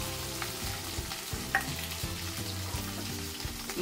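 Onions and curry leaves fry in a pan, a steady close sizzle with stirring clatter and scraping throughout.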